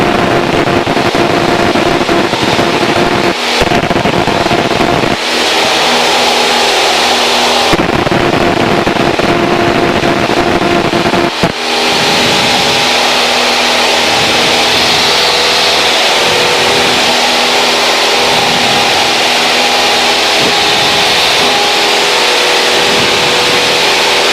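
Light aircraft G-BOIL's engine at full power, a loud, close, roaring drone with tonal engine harmonics and a couple of abrupt dropouts and clicks early on, then a steady, sustained roar without talk.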